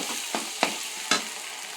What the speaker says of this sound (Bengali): নারকেল কোড়া দিয়ে নিচ্ছি, এবার একটু ভালো করে এটা ভাজবো এটা দিয়ে।